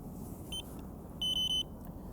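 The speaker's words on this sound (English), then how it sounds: "So, if I turn the alarm on," A Delkin carp fishing bite alarm gives one short double beep, then a quick run of four sharp electronic beeps, clear and close over quiet outdoor background.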